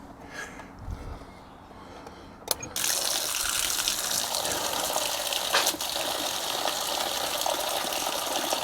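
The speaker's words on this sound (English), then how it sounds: "just rinse through the flat hose now" Water rinses through a motorhome's flat hose, starting with faint trickles and handling clatter, then a sudden, sustained gushing flow that stays loud and steady to the end.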